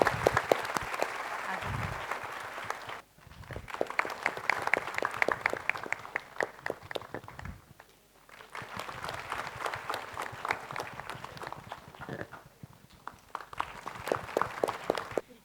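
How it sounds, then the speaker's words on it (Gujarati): Students at a board result celebration are greeted with loud, sustained applause from a gathered crowd, the clapping swelling in several long bursts with brief lulls between. "જોરદાર તાળીઓથી છોકરાઓને વધાવો"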